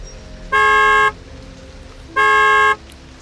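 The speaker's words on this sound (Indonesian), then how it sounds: "Dikelaksonin kayak begitu, kaget ya kan" A car behind on the road honks twice in two loud, half-second horn blasts separated by a short gap, over faint road noise.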